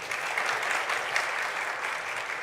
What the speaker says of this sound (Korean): 우리 목사님 나오실 때 우리 큰 박수로 환영하겠습니다